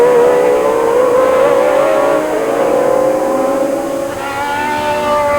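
Historic Formula One cars, including a Tyrrell 012X, racing at Magny-Cours, with a loud, continuous high-pitched engine wail that shifts in pitch as the cars pass close by.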